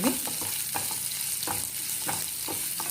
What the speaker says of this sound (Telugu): పచ్చిమిరపకాయలు, ఉల్లిపాయ ముక్కలు వేసుకుని కొంచెం ఫ్రై చేసుకుందాం.